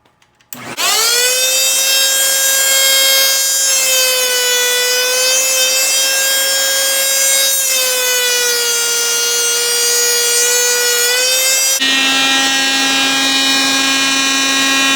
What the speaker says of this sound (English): this thing, in combination with the vacuum cleaner, it sounds like a air raid siren